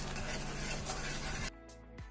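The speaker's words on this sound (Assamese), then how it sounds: "মই গোটেইখিনি মছলাই ভালদৰে ভাজি ল'লোঁ" Turmeric, coriander, cumin and red chilli powder fry in a pan with a dense, steady sizzle and stirring that drops away abruptly midway, leaving quieter pan sounds.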